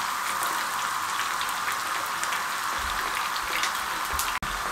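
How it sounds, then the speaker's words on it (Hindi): Marinated chicken frying in a pan over a medium flame, a dense, steady sizzle and crackle throughout, close and loud, with a brief clunk near the end. "इसको हमने इस तरह पैन में डाल दें और इसको हम फ्राई करेंगे।"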